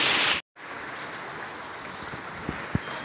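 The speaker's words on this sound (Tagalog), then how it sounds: "Sobrang ulan dito sa amin." Heavy rain pours steadily during a typhoon, a dense hiss of drops on surfaces that continues without a break. A brief silent gap comes early, then a couple of louder drips or splashes land near the end.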